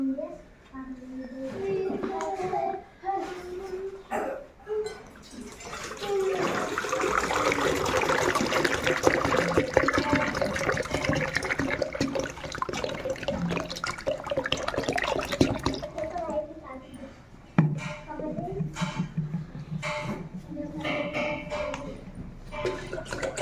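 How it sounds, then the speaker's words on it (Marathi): Water from one-litre bottles pours into an empty bucket, a steady splashing gush that runs several seconds, with shorter pours and trickles before and after, close by and fairly loud. "या 1-1 लिटरच्या बॉटल आहेत, त्या आपण पाण्याने भरून आणलेल्या आहेत आणि ही एक रिकामी बादली आहे."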